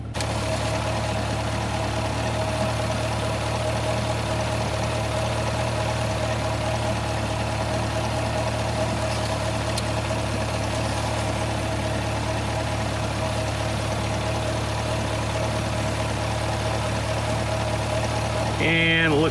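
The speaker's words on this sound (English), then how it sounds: "We'll keep the engine idling, flat surface, and check our oil level." A Chevrolet Corvette C8 engine idles steadily on a flat surface during its first oil change, a constant low, even hum heard up close for the whole stretch.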